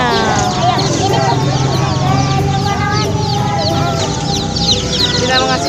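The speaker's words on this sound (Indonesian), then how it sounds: "Ini apa ini? Ini ayam." Chickens cluck and squawk repeatedly in a busy, noisy setting, with people talking over the birds throughout.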